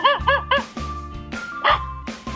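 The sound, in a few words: dog barking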